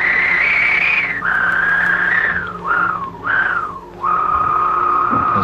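Synthesized electronic tones from a 1979 studio sing out in sliding, whistle-like pitches, bending downward in several swoops before settling on a steady note, loud and alone with no voices.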